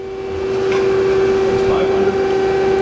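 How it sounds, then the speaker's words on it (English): A CNC lathe live tool spinning up, with a strong steady whine over a broadband mechanical hum that rises quickly and then holds, close and loud. "Now we're going to run the live tool."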